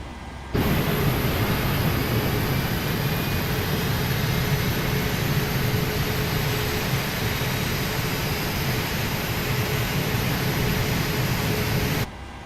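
An airliner's number 2 engine spooling up during pushback in a flight simulator, a steady broadband jet roar and whine holding evenly for about eleven seconds before cutting off abruptly, no talk.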